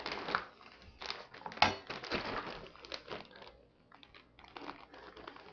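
Crinkly plastic bag being sealed over a steak with seasoning, a quiet close sequence of irregular crackles and rustles with small presses and pops.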